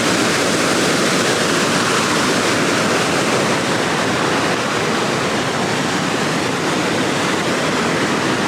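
Rushing water of the Rogue River pours out of a cave at the natural bridge, a loud, steady broadband roar that holds constant with no breaks or voices.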